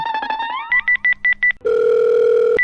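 Rising electronic tones give way to a short run of evenly spaced keypad beeps, then a steady telephone dial tone hums until it cuts off.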